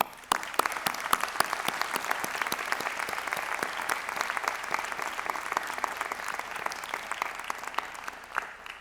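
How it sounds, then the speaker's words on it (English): Sustained applause fills a hall at a spring convocation ceremony, a dense, even wash of many hands clapping for nearly nine seconds without a break. "we give a round of applause for your supporters"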